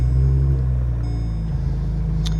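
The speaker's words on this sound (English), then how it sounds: "So I'm just going to start the car up." A car engine cranks and settles into a loud, low idle rumble with a steady hum, close by and with no one talking.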